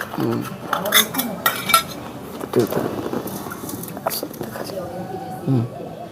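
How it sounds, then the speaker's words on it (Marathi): A pot of cooked rice lifted off a small village-style stove, with several metallic clanks and scrapes of the vessel against the stove under continuous talk nearby. "आता भाताला मी खाली उतरून ठेवते"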